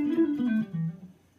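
A guitar plays a descending pentatonic legato run in groups of five notes, a short, fairly quiet phrase of smoothly connected notes stepping downward and fading out.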